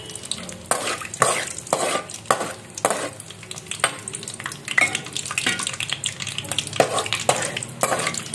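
Peanuts and cashews fried in a pan while being stirred, close crackling sizzle broken by repeated scraping, rattling stir strokes at an irregular rhythm.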